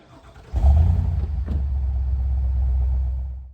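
A pickup truck engine idles with a deep, steady rumble, then revs up as it pulls away in regular two-wheel drive, holding a loud low drone throughout.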